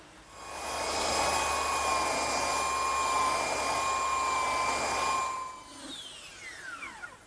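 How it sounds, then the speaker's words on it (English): A handheld belt sander works along a table's edges, a steady high-pitched motor whine with a sanding rasp that holds for about five seconds before spinning down and stopping. "I like to use a slightly smaller belt sander to do these edges because it's easier to hold"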